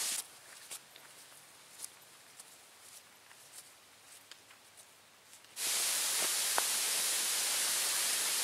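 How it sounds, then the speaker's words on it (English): A waterfall on a forest trail along the Pictured Rocks lakeshore: faint footsteps and ambient quiet at first, then a loud, steady broadband rush of falling water that swells in abruptly and holds. "I can hear a waterfall."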